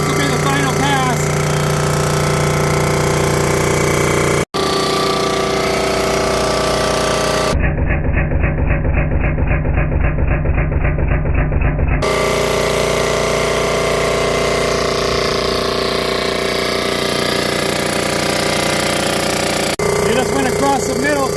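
A machine cutting the final surfacing pass on cylinder heads, with a loud, steady mechanical drone and a harsher rhythmic chatter midway through, heard close up under nearby talk.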